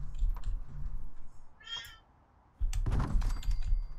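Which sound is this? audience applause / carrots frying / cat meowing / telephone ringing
cat meowing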